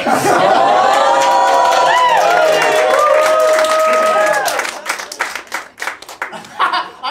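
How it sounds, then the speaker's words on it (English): A crowd at a stand-up comedy show in Linz, Austria laughs and claps loudly, a burst of applause and chuckles that thins out into scattered claps and murmurs. "that gets an applause break"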